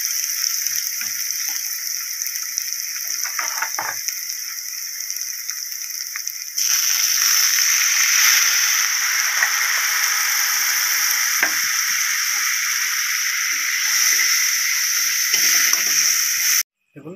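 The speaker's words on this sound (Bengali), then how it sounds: "দেখুন ঝোলটা ভালোভাবে ফুটছে।" Spice gravy for mustard hilsa bubbles and sizzles in a pan, a bright, continuous frying hiss that grows louder partway through and then cuts off abruptly at the end.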